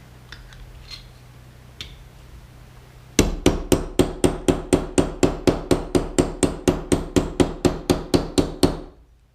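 Steady series of about twenty sharp, evenly spaced hammer taps on metal, dimpling a peacock pendant, loud and close after a quiet stretch of faint background noise.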